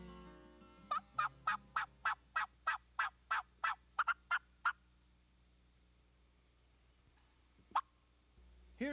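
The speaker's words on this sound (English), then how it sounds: "He changed from excited cuts and yelps to just soft clucks." Spring wild turkey hunting: about a dozen short, evenly spaced soft turkey clucks ring out clearly in a quiet woodland. After a pause, a single sharper call follows.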